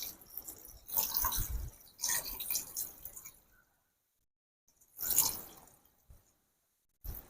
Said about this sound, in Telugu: ముక్క మునిగేంత వరకు నీళ్లు పోసుకుందాం